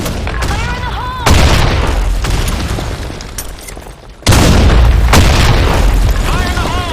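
Grenade explosions in a video game, two heavy booms a few seconds apart, loud and close, set among game noise and voice callouts.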